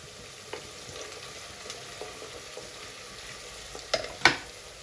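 A large onion frying in a pan for hesarubele kichdi, a soft continuous sizzle with occasional stirring taps and two sharper clinks near the end, with no talking.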